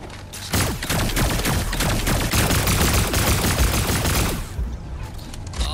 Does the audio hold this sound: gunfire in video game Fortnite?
yes